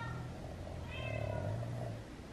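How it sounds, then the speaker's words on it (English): A Siamese cat's meow is played back by a Google Assistant speaker, a single drawn-out, fairly faint meow over a steady background hum. "This is a Siamese cat."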